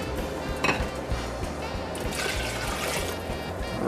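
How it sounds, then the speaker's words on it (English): Broth and milk are poured into a soup pot over a cooked flour roux for loaded baked potato soup, a short burst of trickling liquid with light clinks of the pot, close and brief. "in goes our broth and our milk"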